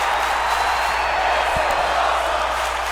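Arena crowd in the wrestling video game WWE 2K24 cheering during a match, a dense, steady wall of roaring voices with a couple of faint thuds, continuous and fairly loud.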